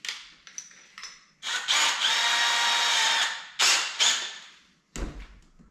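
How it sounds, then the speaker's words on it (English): A power drill with an 8mm bit bores through a baiting pole: a few short bursts, then a long steady high whine lasting over a second, two more quick bursts and a final clunk. "8mm drill."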